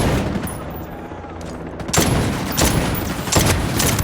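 Gunshots in a stealth video game, a few sharp loud cracks in quick succession after a quieter stretch, each with a short ringing tail.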